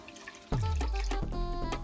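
Water poured from a cup into a pan of milk while making Sri Lankan thothal, a close, steady pour that starts after a brief quiet moment and runs on to the end.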